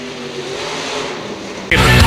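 A sprint car engine at a dirt-track race drones steadily and loud for most of the stretch, then surges sharply louder near the end as the car roars close by.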